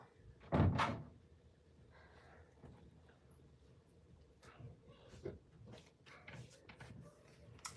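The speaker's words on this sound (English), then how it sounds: "Let me close my door, guys." A door is pushed shut indoors with one solid thud near the start, followed by quiet room sounds and small soft knocks and rustles.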